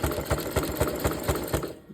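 A sewing machine stitches a round jelly roll fabric rug in rapid, steady rhythmic bursts of needle clatter, close and loud, with no talking.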